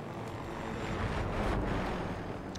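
Helicopter rotor and engine roar from the video game Battlefield 2042, a steady loud broadband drone with a slight swell midway and no voices.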